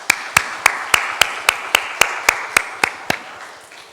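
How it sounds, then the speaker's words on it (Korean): Congregation at a Sunday church service gives a short burst of applause, about a dozen sharp, evenly spaced claps dominating the room and fading out near the end, with no talk over them. "격려, 용기를 줄 수 있는 박수 한번 하겠습니다."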